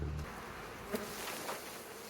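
Honeybees hum around an opened hive frame, a brief, steady, low buzzing swarm heard close and moderately loud with no voices.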